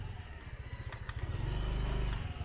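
Motorcycle engine running nearby with a steady low rumble that swells louder partway through, heard alone with faint background sounds.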